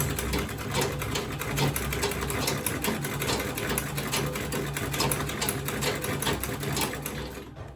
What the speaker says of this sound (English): I'm going to sew on it now